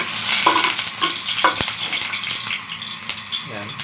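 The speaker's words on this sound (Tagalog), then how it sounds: "Igigisa na natin muna yung gulay." Vegetables sautéing in hot oil in a pan, a bright continuous sizzle with several scraping stirs and a sharp clink, close and loud.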